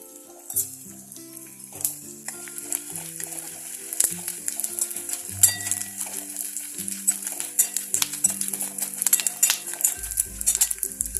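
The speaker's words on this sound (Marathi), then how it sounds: "आता अशा पद्धतीने राहिलेला आहे डिंक असं तळून घेते" Edible gum (dink) fries in hot oil in a pan for laddu, a steady close sizzle with crackling pops and scraping stirs, while light background music plays throughout.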